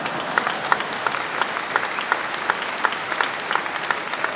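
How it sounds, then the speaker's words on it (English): Steady audience applause fills a convention hall at the IFA national convention in Phoenix, a dense wash of many hands clapping at close range, with a few louder individual claps standing out, then cutting off abruptly at the end. "you should be clapping"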